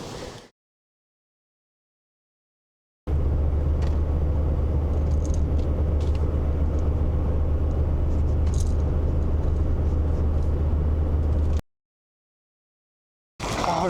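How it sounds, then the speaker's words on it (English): A car drives off the paved road on a trip toward Aachen, Germany, with a steady low engine rumble and rattling from uneven ground. The noise runs continuously for several seconds between stretches of silence. "going off the road again, a little off-roading"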